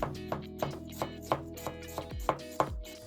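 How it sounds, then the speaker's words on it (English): An usuba knife chops the thin peeled outer layer of myoga ginger on a cutting board, giving about nine crisp, evenly spaced knife strikes in a steady rhythm, close and clear, with no talking. "And chop only outside very thinly."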